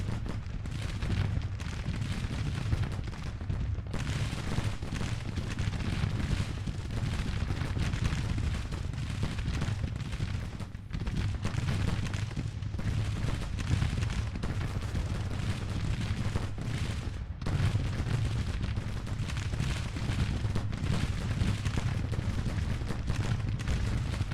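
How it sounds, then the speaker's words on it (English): Artillery counter-battery fire in a Civil War battle in Grand Tactician, steady rumbling cannon fire with repeated distant booms and crackling musketry, continuous and dense throughout. "More counter battery fire."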